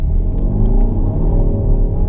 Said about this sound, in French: On va voir un peu l'accélération.